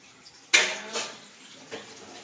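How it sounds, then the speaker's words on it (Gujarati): Dishes and pots clatter and clink during washing up, with one sharp loud knock followed by softer scattered clanks, close and without voices. "મોમો કરે છે વાસણ"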